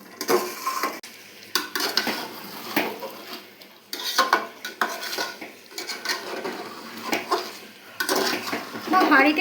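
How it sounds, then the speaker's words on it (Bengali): Pots and utensils clatter and scrape as a mother cooks marinated chicken in a pot, frying the masala; close, busy metallic clinks and stirring scrapes come in repeated bursts throughout. "মা এখন চিকেন রান্না করছে, মশলাটা কষছে"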